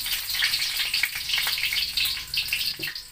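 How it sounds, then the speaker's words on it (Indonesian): Shallots fry in hot cooking oil in a pan, a bright continuous sizzle with crackling bursts, close and loud, with a small clink near the end. "Goreng bawang merah dulu hingga warna kecoklatan."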